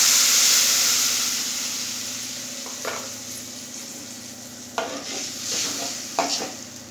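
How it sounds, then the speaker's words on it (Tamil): Lemon juice hits hot oil tempered with curry leaves and turmeric, giving a sharp sizzle that fades away, followed by a few scraping stirs in the pan, with no voices. "கடைசியாக எல்லாத்தையும் வணக்கிட்டு லெமன் ஜூஸ் ஊற்றிக்கிறேன்."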